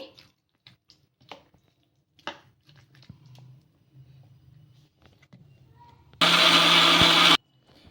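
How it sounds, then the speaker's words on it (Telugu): A loud mixer grinder blending batter whirs steadily for about a second near the end, after quiet kitchen clatter and soft handling sounds. "ఇప్పుడు మెత్తగా మిక్సీ అయితే పట్టేసుకుందాం దీన్ని"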